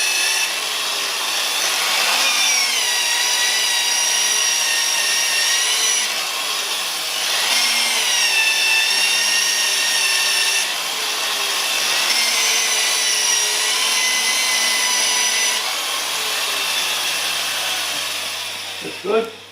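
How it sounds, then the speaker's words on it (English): Power sanding the off-centre wooden lid of a pepper mill spinning on a lathe: a steady, loud abrasive whir with shifting whining tones runs nearly twenty seconds without a break. "I'll power sand it away as best I can."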